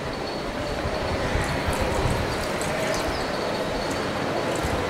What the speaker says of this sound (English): So now the train is in station.